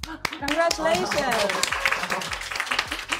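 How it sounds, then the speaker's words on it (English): Applause at a Paris Fashion Week event, crowd clapping close by and steady for about three seconds beneath a person talking loudly over it. "Can we have a round of applause"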